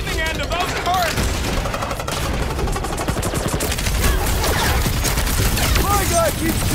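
Heavy turret gunfire in the Guardians of the Galaxy video game, a loud, dense, continuous barrage of rapid shots and blasts mixed with game effects, with speech-like voices over it.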